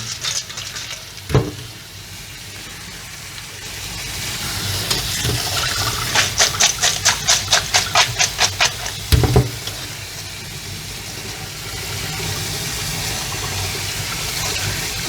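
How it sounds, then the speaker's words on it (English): Cold water runs steadily from a tap over blanched broccoli and ice in a kitchen, a constant rushing hiss broken by a quick run of rhythmic clattering knocks and a couple of dull thumps. "we're just gonna run cold water over it"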